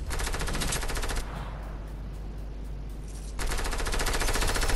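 Submachine gun fire in a video game rattles off in two rapid sustained bursts, with a quieter stretch of background noise between them.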